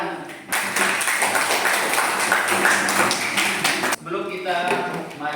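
Students clapping together in a classroom, a sustained burst of dense applause lasting a few seconds that stops abruptly, followed by room noise and a few scattered sounds.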